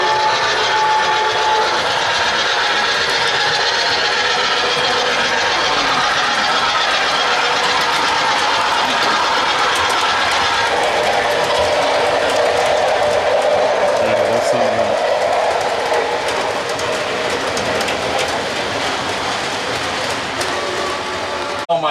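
A model train running through a tunnel and coming back out, a continuous rumbling rattle with clicking wheels, steady and fairly loud from start to finish.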